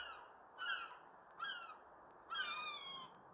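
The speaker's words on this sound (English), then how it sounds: "That's just some seagulls that are randomly around." Gulls calling outdoors, three bursts of harsh, descending cries spaced about a second apart, moderately near over a steady background hiss.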